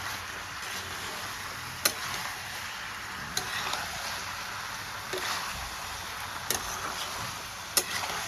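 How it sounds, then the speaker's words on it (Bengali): Boiled pasta being stirred together with vegetables in a pan, a steady soft scraping and sizzling texture with a few sharp utensil clicks against the pan at irregular intervals. "এবার আমি মিক্স করে দেব সবজিগুলোর সঙ্গে, পাস্তাটা আমি মিক্স করে নেব।"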